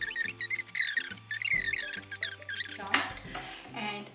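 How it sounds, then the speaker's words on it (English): A roasted, skinned sweet pepper being cut, with soft knife and utensil clinks against a board or plate under light background music. "We have our pepper all cleaned up and we can cut it."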